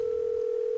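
A telephone in a Nancy Drew video game gives a dial tone: one steady, pure, unbroken hum, clear and alone, with no talking.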